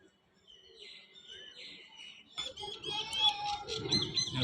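Soft bird calls from racing pigeons settling during a pigeon-flying contest: faint chirps at first, then busier, louder calling and fluttering toward the end.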